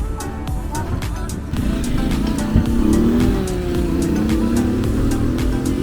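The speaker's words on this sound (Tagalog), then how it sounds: "nakasakay na kami ng e-trike" An electric tricycle carries riders along a road in Boracay, giving a steady motor hum and rolling road noise with faint rhythmic ticking, while traffic drones around it.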